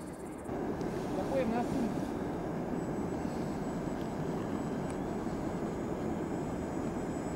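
Motors of a SkyBolt-3M model hybrid airship run as a steady, continuous drone in flight, loud and close with some wind noise, with a voice talking over it.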